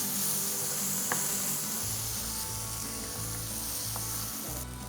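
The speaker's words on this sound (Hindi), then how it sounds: "we will add chopped tomatoes." Chopped tomatoes sizzle in a hot kadai with ginger, garlic and Kashmiri chili powder, a steady bright hiss with a low hum beneath and a few faint stirring clicks, no voices.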